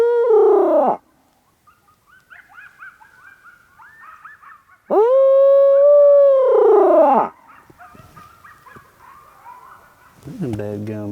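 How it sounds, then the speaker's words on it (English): Coyotes howl from about 150 yards away across a burned pasture during a turkey hunt, with two loud, long, wavering howls and yips and scattered calls between them. "Them dadgum coyotes are just right there."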